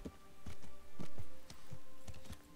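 A horse walks in the video game Kingdom Come: Deliverance, its hooves landing in a steady, close clip-clop rhythm of soft thuds for a couple of seconds.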